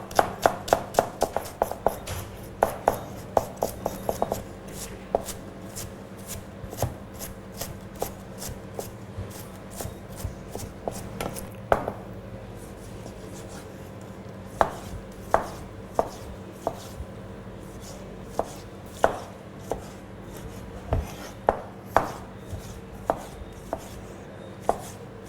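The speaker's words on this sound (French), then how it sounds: "on va couper les échalotes, l'ail et les tomates émincées en petits morceaux" Shallots, garlic and tomatoes chopped into small pieces with a knife on a board in a Martinique kitchen, brisk runs of sharp taps that thin into scattered strokes, close and clear with no talk.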